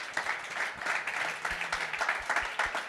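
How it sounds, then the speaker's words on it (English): A football event audience claps for a women-in-football panel, steady crowd applause at moderate volume with a few close, distinct claps standing out. "Round of applause for the panel, please."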